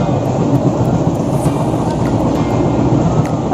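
A passenger train on the Anand Vihar to Sealdah route runs with a steady, loud rumble and continuous rail noise, heard from close by without a break.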